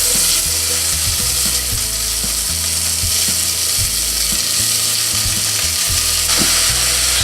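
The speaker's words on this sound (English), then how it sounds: "Stir the onions so that they brown evenly. Let them cook." Onions frying in olive oil in a very hot pan for French onion soup, a steady loud sizzle with repeated wooden scraping and stirring knocks throughout, no voices.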